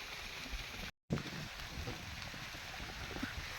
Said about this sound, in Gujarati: સારું જો વરસાદ પણ કેવો આવે છે